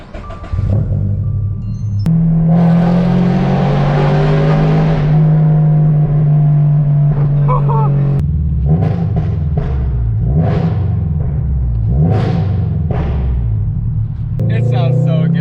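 A Toyota GR86 sports car engine drones loudly while driving, holding a steady low hum before a series of sharp revs and gear-change pulls, close and dominant throughout.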